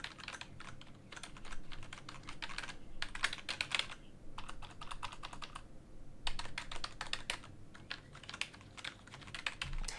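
Steady typing on a quiet HyperX Alloy Core RGB membrane keyboard in bursts of soft, muffled key presses, with brief pauses between runs, recorded at desk distance.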